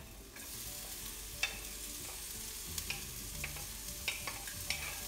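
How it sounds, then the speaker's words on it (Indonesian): Garlic and shallots sautéing in a pan for a sardine dish, a steady close sizzle broken by occasional clinks and scrapes of stirring. "Tumis bawang putih, bawang merah sampai harum."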